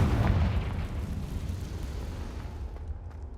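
A Confringo blasting spell explodes in Hogwarts Legacy: one loud, deep boom that rumbles and fades away over a few seconds.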